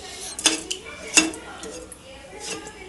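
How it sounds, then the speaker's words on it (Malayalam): A spoon clinks and scrapes against a pot while brinjal curd curry is stirred, a few sharp metallic knocks spaced out over a quiet background. "എല്ലാം ഒന്ന് മിക്സ് ചെയ്യാം."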